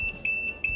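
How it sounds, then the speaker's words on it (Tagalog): A circuit breaker trip alarm buzzer on an electrical panel sounds a steady high-pitched electronic beep in short repeated bursts, fairly loud and alone. "kaya nag-alarm ang ating buzzer"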